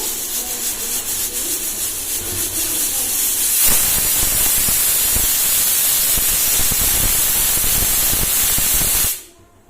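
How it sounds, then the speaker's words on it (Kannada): Loud, continuous hissing of steam escaping from a pressure cooker, growing rougher and stronger partway through before cutting off abruptly near the end. "ಕುಕ್ಕರ್ ವಿಸಿಲ್ ಆಗ್ತಾ ಇದೆ"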